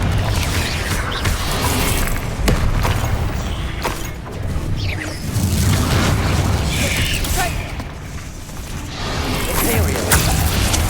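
Fire-blast Confringo spell explosions in the fantasy combat game Hogwarts Legacy, dense booms and crashes layered over continuous loud battle noise and effects, with swells and dips in intensity.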